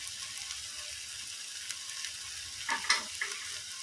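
Egg dish cooking in oil, a steady soft sizzle running throughout at low level, with a few brief scraping stir sounds near the end.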